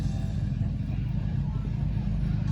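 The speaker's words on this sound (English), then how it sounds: "in comes the van" A van drives into the arena at a motorcycle stunt show at the Guernsey North Show 2021, its engine a low, steady rumble heard faintly beneath someone talking and crowd murmur.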